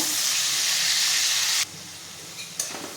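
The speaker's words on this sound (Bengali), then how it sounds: "আলুগুলো ভেজে নেব" Potatoes coated in salt and turmeric sizzle loudly in hot oil for a quick chicken keema biryani, a dense steady fry that cuts off abruptly partway through, leaving a quieter background with a couple of faint knocks.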